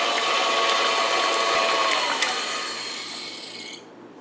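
An electric mixer whirs through pumpkin bread batter in a bowl, a steady close high-pitched buzz with slight rasping that fades and cuts off near the end.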